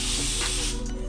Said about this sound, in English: It costs a little bit more than a regular, just basic spray bottle, but watch how it sprays.